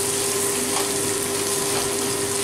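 Masala spices sizzle gently in oil in a pan over a low flame. The frying is a soft, steady hiss that carries on without break, with no voices.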